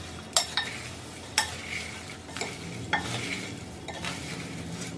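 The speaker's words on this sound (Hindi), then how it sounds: "सारी चीजें फ्राई हो गई है और इसे हम मिक्स कर लेंगे।" Fried leftover-rice chivda ingredients being tossed together in a bowl, a few crisp rattling scoops and clinks at roughly one-second intervals over a low rustle, close and fairly quiet, without speech.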